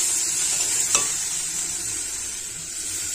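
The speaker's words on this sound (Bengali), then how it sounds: "2 থেকে 3 মিনিট খুব ভালোভাবে নাড়াচাড়া করে কষাই করে নেব।" Papaya and potato curry being stirred and fried in a pan, a steady close sizzle with one sharp utensil knock about a second in.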